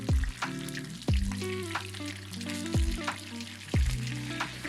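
Whole mojarra fish frying in oil, Mexican style, giving a steady sizzle throughout with music playing alongside.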